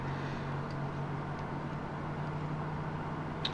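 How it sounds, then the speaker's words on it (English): Simulated engine of a PMDG Boeing 777-300ER starting up in FSX, a steady low drone and airy hiss with a faint tonal hum, continuous and even, with no talk. "So you can hear the engine starting up in the background."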